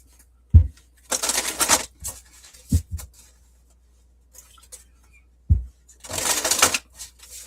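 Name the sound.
shuffling Sacred Forest Oracle cards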